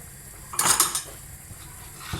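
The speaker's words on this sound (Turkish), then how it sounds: "Bu arada da böyle sürekli karıştırıyorum ki her tarafı aynı olsun" Rice pudding stirred in a pot, a short burst of spoon scraping and clinking against the metal around the middle, then quiet with a faint tap near the end.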